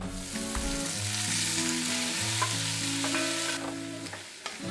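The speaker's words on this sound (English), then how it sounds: "I usually fry the onions and when it's nicely cooked, then I add the tomatoes." Onions and tomatoes with curry leaves fry in a pan in a home kitchen, giving a constant close sizzle broken by scraping stirs, with a low background hum and no voices.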